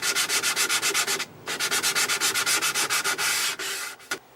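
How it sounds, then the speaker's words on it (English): The wood finish of a Philco 39-30 radio cabinet is sanded by hand in quick back-and-forth strokes, loud and close, with a steady rhythm, a short pause, and a few final strokes. "I go in the direction it's easiest to sand."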